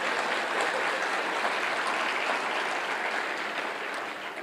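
An audience at a Spiritist talk breaks into sustained applause, a dense, even wash of many hands clapping that holds steady and fades slightly near the end, with no speech.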